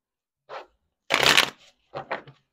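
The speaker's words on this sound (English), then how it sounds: "let's shuffle this up some more, actually." Three quick bursts of tarot cards being riffled and shuffled, the middle one loudest and longest, with short pauses between, close up and without speech.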